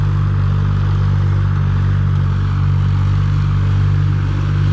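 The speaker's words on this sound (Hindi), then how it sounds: "शांति से चल रहा, जबकि छोटा साइलेंसर लगा है ट्रैक्टर में।" Massey Ferguson 5245 tractor with a small silencer pulling an 8.8 harrow through a field, a steady loud diesel drone with a strong low hum and constant clatter, close and uninterrupted.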